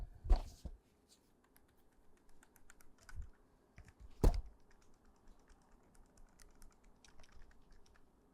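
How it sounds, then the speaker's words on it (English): A TrimUI Brick handheld game console is shaken close to the microphone, producing a few faint, sparse plastic clicks and rattles against a quiet background. "Here is the TrimUI brick when I shake it."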